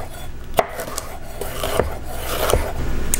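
Knife slicing an orange pepper into julienne strips on a cutting board, with a handful of crisp cuts striking the board at irregular intervals against a steady background hum.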